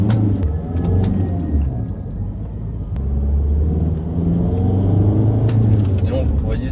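A 2008 Audi A3 8P engine pulls hard from inside the cabin, a loud low rumble rising and falling in pitch as it accelerates, with people talking over it.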